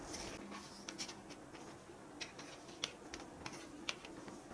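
Tarot cards are drawn and laid out during a reading, giving soft, light card flicks and taps scattered irregularly across a quiet background, fairly close.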